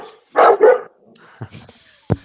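A dog barks twice in quick succession, loud and close, followed by a couple of softer yips, with a voice faintly audible in between.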